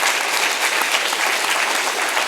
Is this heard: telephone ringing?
no